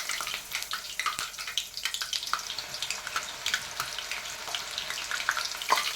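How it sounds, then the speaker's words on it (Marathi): Green chilies frying in oil for a potato chivda, giving a steady close crackle and hiss with scattered pops and no speech. "अशा पद्धतीने एक मिनिटभर या मिरच्या तळून घ्यायच्या आहेत"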